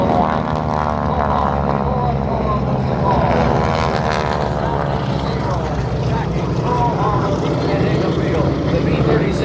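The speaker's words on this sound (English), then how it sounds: "High overhead, the Zero's doing scraping runs." A loud propeller warplane, a Japanese Zero in a Pearl Harbor attack reenactment, drones overhead, its engine pitch rising and falling as it passes, with a voice speaking underneath.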